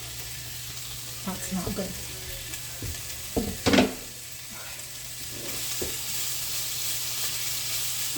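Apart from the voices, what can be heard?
food sizzling as it is fried in an oiled pan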